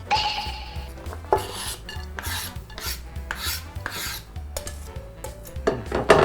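Clattering and scraping as chopped food for lasagna is tipped into a frying pan, with repeated metallic knocks and rasping close by, no one talking.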